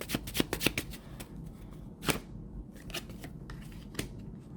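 Tarot cards are shuffled by hand at close range, with quiet bursts of riffling and slapping that come in irregular clusters, then a sharp riff near the middle and a few softer flicks toward the end.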